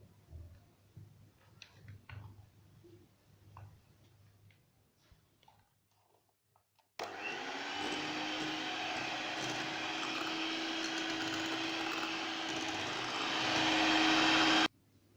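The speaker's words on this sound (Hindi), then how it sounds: "इस तरह से मिक्स करके और फिर तकरीबन 2 मिनट हम इसको बीट करेंगे" An electric beater whips cream with cocoa powder into an ice cream base, switching on after a quiet stretch of faint kitchen sounds and running as a loud, steady whir, rising slightly before cutting off.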